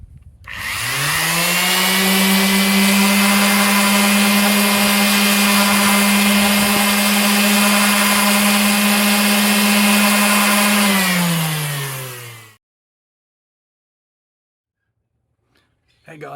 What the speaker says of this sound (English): Now just sand it up to your desired grit.